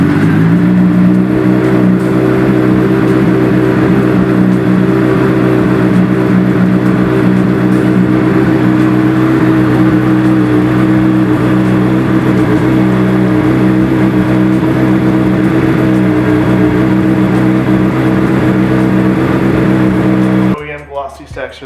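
A Honda CBR 600RR motorcycle engine fitted with velocity stacks runs loud and steady after an idle repair, holding a constant droning idle close by before cutting off near the end.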